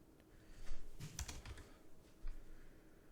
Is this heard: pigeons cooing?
no